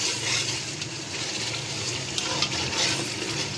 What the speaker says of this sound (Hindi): भर के एक गिलास पानी इसमें ऐड कर दिया है